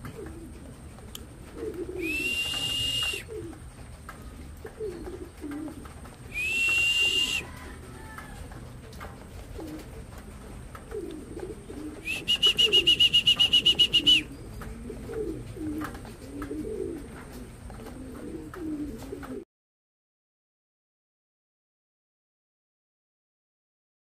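Racing pigeons that have just landed after a race coo in soft, repeated low calls nearby. High electronic chirps come in three short bursts, and the sound stops suddenly near the end.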